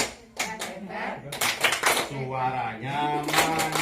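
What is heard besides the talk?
group rhythmic clapping chant "tepuk hebat"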